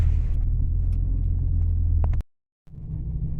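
Ford E350 Econoline extended van with a 6.8 Triton V10 engine cruising on the freeway, a steady low cabin rumble that cuts out abruptly for a moment and then resumes.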